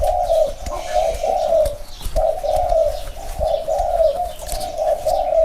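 A spotted dove kept as a training bird coos close and loud in a steady repeated series of throaty phrases with a brief pause midway, alone without talk.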